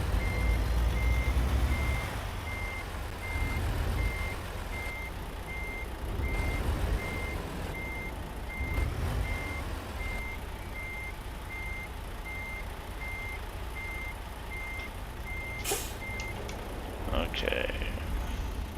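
A truck in American Truck Simulator backs up with a steady, evenly spaced electronic reversing beep that repeats for most of the stretch over a low engine rumble, while someone talks throughout.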